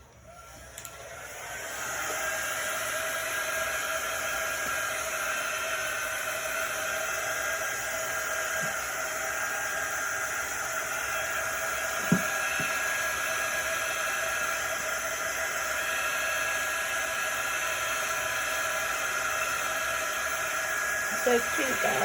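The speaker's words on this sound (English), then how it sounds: "I'm gonna use our quick dry tool." A handheld quick-dry heat tool blows a steady, loud whooshing hum while drying chalk paste, running continuously close by for about twenty seconds with faint handling clicks.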